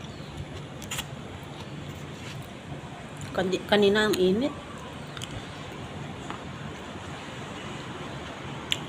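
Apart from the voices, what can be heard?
strong wind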